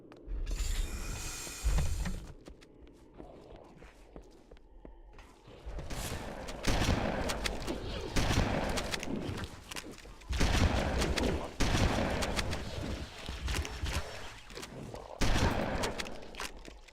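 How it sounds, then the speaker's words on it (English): Enemy gunfire in a video game: repeated bursts of shots and clattering mechanical bangs recur in loud waves over a steady background, with quieter stretches between them. "they'll just keep shooting"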